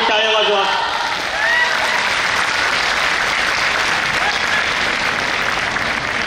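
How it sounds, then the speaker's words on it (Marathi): A lecture-series audience claps for the speaker after a memorial talk, dense sustained applause filling the hall at steady loudness, with a voice briefly audible at the start over the clapping. "सर्वांनी एकदा सरांसाठी टाळ्या वाजवा."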